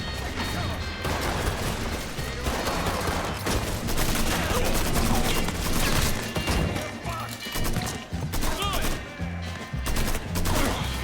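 Sustained AK rifle gunfire in Mafia 3, dense bursts mixed with crashes and impacts, loud and continuous throughout with no pauses.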